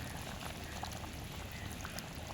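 Tamarind pulp is poured into a bubbling Jaffna-style crab curry, giving a soft, steady liquid rush and faint simmering burble that stays low and even throughout.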